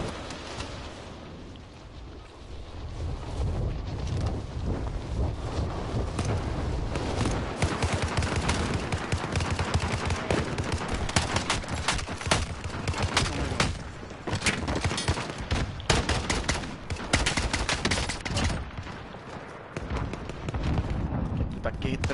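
Dense gunfire from a Call of Duty match, with rapid automatic bursts and explosions that sound constantly and loud, while a player talks over the shooting and in-game voice callouts break in now and then.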